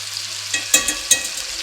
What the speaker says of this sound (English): It's cooked pretty good on one side, so I'm just simply going to flip it over.